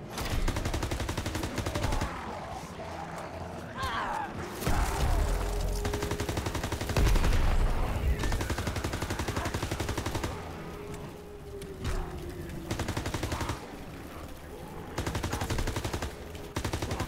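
Dense rapid gunfire from automatic weapons in the MW3 Zombies video game, loud continuous bursts with heavy impacts and brief pauses, and no talking.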